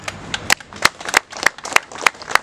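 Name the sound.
audience applause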